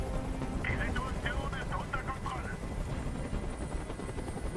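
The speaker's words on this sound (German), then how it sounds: "Dieser Helikopter soll verschwinden!" A helicopter hovers in the video game Detroit: Become Human, its steady rotor drone filling the whole clip at moderate level while a voice speaks briefly over it.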